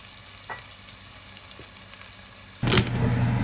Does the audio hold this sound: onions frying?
yes